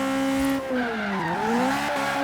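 A Toyota AE86 drift build in Forza Horizon 3 slides sideways under a yanked e-brake, its tires squealing in long, wavering tones over a loud, strained engine drone whose pitch dips and climbs through the drift.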